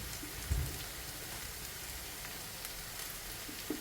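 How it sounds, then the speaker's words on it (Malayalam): Kashmiri chili powder sizzling in about two tablespoons of hot oil for a yam and papaya pickle, a steady soft crackling hiss throughout with a brief thump near the start. "എണ്ണയിൽ കിടന്നിട്ട് നമുക്ക് മുളകിൻ്റെ പൊടി ഇട്ട് കൊടുക്കാം. ഇത് കാശ്മീരി മുളകാണ്."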